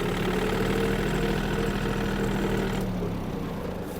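A Yanmar F-210 Japanese mini tractor engine runs at a steady, close, loud idle with a knocking diesel chug, easing slightly in level near the end, with no voices.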